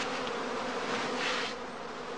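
Honeybee afterswarms, settled into straw skep baskets at a heath apiary, buzz in a dense, steady drone, close and continuous with a slight swell midway, no voices present.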